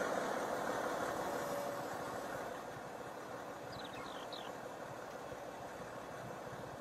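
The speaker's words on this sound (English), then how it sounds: "Well, let me get this tractor out of the way." A tractor engine idles in the Farming Simulator 19 video game, a steady low rumble that drops slightly in level partway through, with a few faint chirps above it and no talking.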